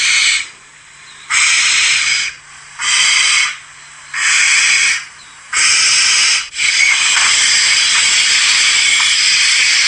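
Recorded barn owl calls play back outdoors on an evening safari drive: five long, harsh, rasping screeches, each about a second, evenly spaced by short pauses, then a longer continuous screech, loud and close.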